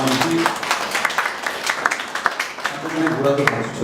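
Audience applause at a 2018 academic symposium on dancer job creation, steady clapping from a crowd filling the room while a host speaks over it.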